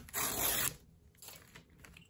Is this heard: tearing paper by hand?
yes